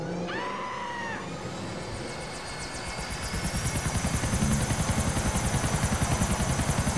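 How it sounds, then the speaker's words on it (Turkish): Helicopter in the video game GTA 4: a steady whine with rising rotor chop that builds into a loud, rapid, even thudding beat, heard alone with no talk. "Helikopter seslerini iyi dinleyin arkadaşlar."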